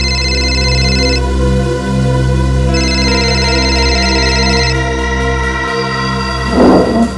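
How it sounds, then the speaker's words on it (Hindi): An electronic telephone rings in loud repeated bursts over a steady background hum, with a short gap between rings, followed by a brief rustling noise near the end. "सर किसी शेफाली का फोन था"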